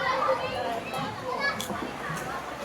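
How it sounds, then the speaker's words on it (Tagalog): Children play and swim in a pool, a lively mix of shouting and chattering kids' voices with occasional splashes, moderately close and continuous. "Swimming lang kayo dyan, mga bata."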